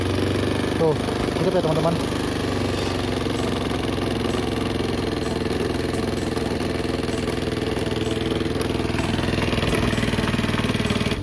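An automatic scooter engine started after sitting unused for four months, idling with a steady, rough mechanical drone and ticking valve noise, close and loud, with someone talking briefly at the start.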